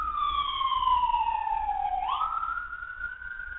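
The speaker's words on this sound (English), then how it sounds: "The ambulance going by." An ambulance siren drives past, its steady wailing tone dropping in pitch as it approaches and goes by, then continuing at a lower pitch as it moves away, loud and close with no talking.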